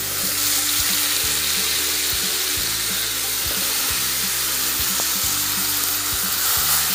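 Vegetables fry with sautéed onion and tomato in a pan, giving a loud, continuous close-up sizzle broken by regular stirring strokes.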